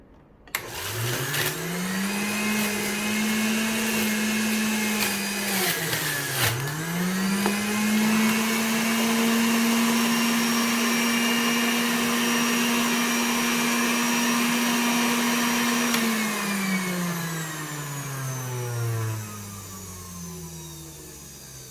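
Philips Viva juicer motor spinning up to a steady, loud whine, dipping briefly mid-run, then humming on before winding down as it switches off.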